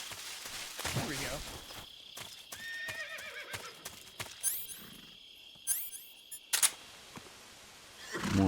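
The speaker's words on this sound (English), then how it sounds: "More horse noises." Horse neighs and whinnies with clip-clopping hooves in the video game Metal Gear Solid 3, several loud calls in turn with game effects and sharp clicks between them, fairly close, without talk.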